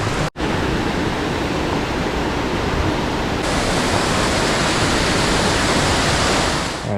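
A creek with good flow on the Virgin Falls loop trail in Tennessee rushes in a loud, even wash after a brief dropout near the start, with no voices.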